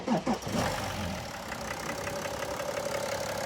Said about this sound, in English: Let's start the BMW M57 3-litre diesel with new engine oil and all that.